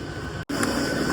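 A Mumbai suburban local train at a Dadar station platform gives a loud, steady rumbling roar up close, broken by one brief dropout.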